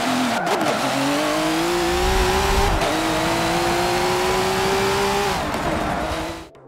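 Racing car engines from the video game Forza 7 roar loudly and continuously, their pitch climbing in long rising sweeps through gear changes, with brief tire squeal and a sharp drop-off at the very end.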